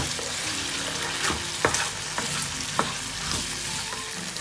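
Chilli paneer sauce with tomato ketchup and soya sauce being stirred in a pan, a steady close sizzle with scraping strokes of the spoon and a few sharper knocks against the pan, no voices.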